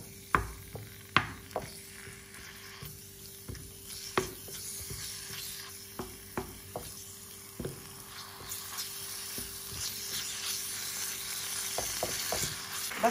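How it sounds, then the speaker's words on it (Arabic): Meat frying in olive oil in a pan on a gas stove, a steady soft sizzle broken by repeated sharp pops and spatters at uneven intervals, close and alone. "بقليهم على الغاز"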